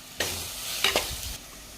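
Ginger, green chilli and cumin paste fry for egg curry, a brief burst of close sizzling with two or three stirring scrapes against the pan before it eases off.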